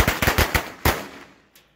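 A Fourth of July firework goes off prematurely, close by, with a rapid string of sharp, loud bangs, then one heavier blast that echoes and decays.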